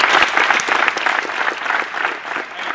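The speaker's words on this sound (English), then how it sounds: "clap it up for yourselves" Kids at a basketball camp clap together in a dense, steady burst of applause that stays loud and close throughout, with no talking over it.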